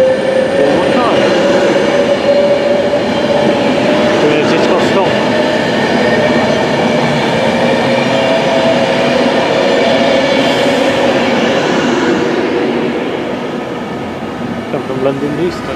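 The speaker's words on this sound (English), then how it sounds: "an additional Virgin Pendolino service to Manchester, going at Stockport and Manchester Piccadilly, 390" A Virgin Pendolino class 390 train rumbles past at a station, a sustained loud rolling roar with faint clickety-clack that eases slightly toward the end.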